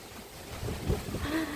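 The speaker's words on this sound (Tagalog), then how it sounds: "Malakas yung alon guys." Surf rushes and swells under gusty wind noise, a broad washing roar building louder toward the end.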